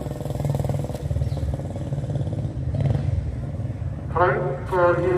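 A 1930s BSA motorcycle engine built from genuine parts runs during a vehicle demonstration at Brooklands Museum, a steady chugging rumble, with someone talking briefly near the end.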